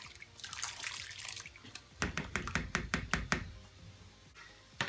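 Rinsed pinto beans and corn poured from a container into a cooking pot for chicken enchilada soup, a rapid series of hard knocking thuds and wet clatters after a short watery rush, close and fairly quiet.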